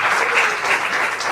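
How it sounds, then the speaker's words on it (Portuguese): A church congregation applauds steadily throughout, a dense, continuous wash of many hands clapping at an even, sustained level with no pauses. "Aplauda o Senhor"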